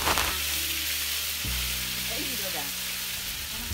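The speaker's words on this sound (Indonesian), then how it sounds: "Oke, mulai kita tumis ya" Chili paste sautéing in a pan while cooking Batak pork saksang, a steady close sizzle with a brief louder burst near the start.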